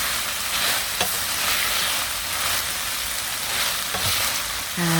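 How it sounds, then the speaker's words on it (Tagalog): Beef a la cubana is stirred in a frying pan, with a continuous hissing sizzle and a few sharp scrapes of the utensil against the pan, close and fairly loud with no talking. "haluin lang po natin ng mabuti"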